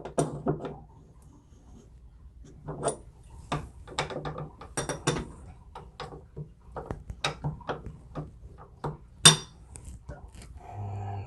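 A ratchet snugs down the cartridge nut on a Moen kitchen faucet, making short bursts of metallic clicking and clattering at close range, separated by brief pauses, with no talking.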